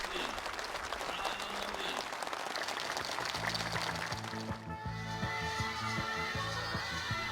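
Participants, farm workers and officials, applaud warmly at a new-housing move-in ceremony in a farm village, a dense stretch of clapping that gives way partway through to a tonal, music-like passage.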